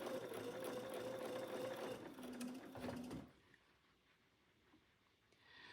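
A sewing machine stitches quilt fabric pieces for a 7-inch quilt block, running steadily and loudly for about three seconds before stopping abruptly, leaving quiet room tone.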